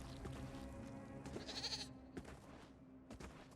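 A goat bleats in Elder Scrolls Online, with a few faint, wavering cries over a low steady game hum and some soft thuds, quiet and at a middle distance.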